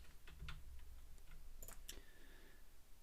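A few scattered keystrokes on a computer keyboard, typing a short phrase into a hosting account help search box, with light clicks spread over a quiet background and no talking.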